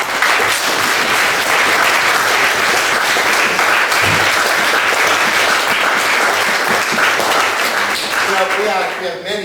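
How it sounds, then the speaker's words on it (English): A big round of applause at a gathering honoring a man named Chris, dense steady clapping from a full room that fills the whole stretch loudly before tapering slightly at the end. "I'd just like to give him one big round of applause"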